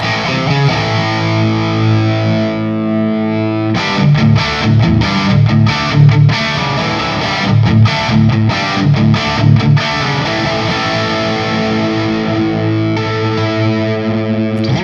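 Semi-hollow electric guitar played through heavier gain distortion, loud sustained chords with choppy rhythmic strummed bursts in the middle, thick and driven, with no talking.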